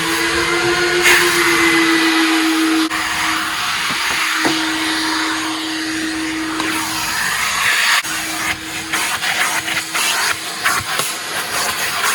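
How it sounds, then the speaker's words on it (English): A car wash power vacuum with switchable large and small hoses roars loudly and steadily nearby, a constant whining motor hum that shifts slightly in pitch as the hose moves, with no talking. "It's called a power vac, so that's pretty powerful."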